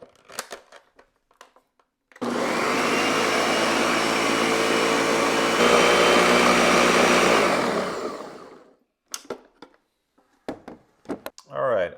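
A kitchen blender whirs crepe batter of flour and liquid for about six seconds, loud and close, its motor spinning up and steady before winding down, with quiet handling noises before and after.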